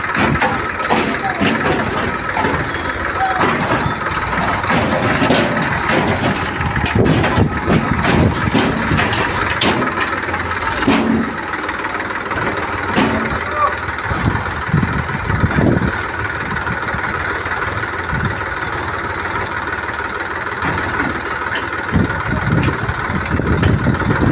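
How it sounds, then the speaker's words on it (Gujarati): Tractors hauling dirt rumble and idle continuously throughout, a steady mechanical drone of heavy vehicles nearby with faint voices mixed in. "ધૂળના ટ્રેક્ટરો હાલે છે"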